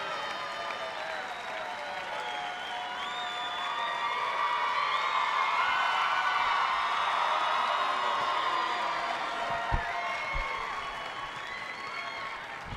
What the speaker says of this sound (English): Please join the Deseret News and the Utah High School Activities Association in congratulating these young men with a huge round of applause